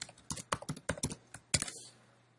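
Close, crisp computer keyboard typing in an irregular run of about a dozen keystrokes, clustered in quick groups before trailing off into quiet.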